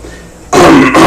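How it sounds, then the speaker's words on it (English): After a quiet moment, one loud, close throat clearing erupts abruptly, a harsh rasping burst that lasts about half a second. "Said the good Lord, clearing his throat."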